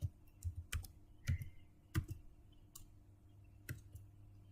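Keys clack on a computer keyboard while a matrix is entered in Maple, a quiet, irregular run of close clicks in small clusters over a steady low hum.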